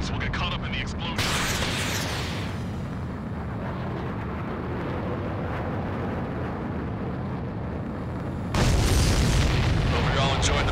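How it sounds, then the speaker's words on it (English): A deep, roaring missile explosion in Ace Combat 7 rumbles on at length, then a second louder blast erupts near the end. "The missile hit its target. Everybody, keep a safe distance to avoid getting caught in the explosion."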